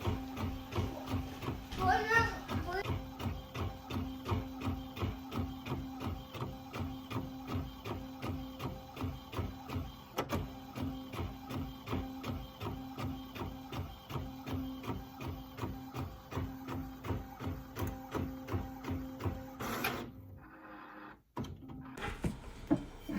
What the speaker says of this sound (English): So I'm just waiting for the print out to come out.